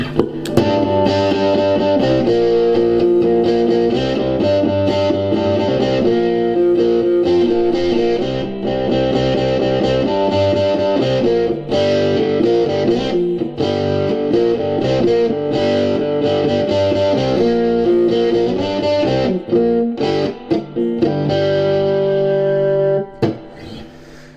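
Electric guitar played through a 1988 Fender Princeton Chorus amp, chords and riffs ringing continuously and loudly with a shimmering, slightly processed chorus tone.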